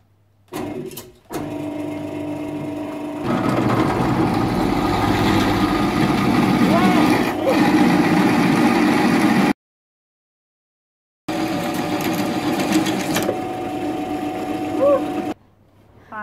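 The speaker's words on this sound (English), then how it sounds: "You need your lubricant for this if you're drilling through that." A power drill with cutting lubricant whines steadily through metal for an electric soap-box racer test rig, running in two long bursts separated by a pause, loud and close.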